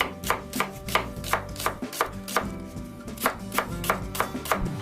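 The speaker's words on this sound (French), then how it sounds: "Damien est en train de terminer d'émincer finement les oignons" Onions are finely sliced with a knife, and the blade hits the board in a quick, steady rhythm of close, sharp taps about five times a second. Busy background noise runs underneath.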